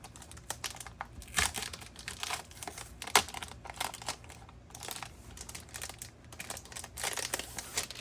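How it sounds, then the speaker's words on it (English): Paper crinkles and rustles in quick, irregular bursts while a Faded Chronicle planner is unboxed, close and fairly quiet, with no voices. "excuse the paper crinkles"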